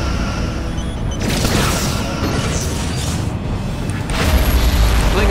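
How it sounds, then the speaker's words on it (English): A Klingon starship blows apart in Star Trek: Legacy, a loud sustained rumbling boom that swells again near the end, with no one talking. "Klingon vessel destroyed."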